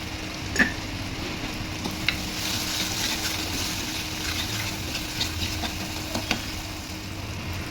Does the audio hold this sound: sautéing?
yes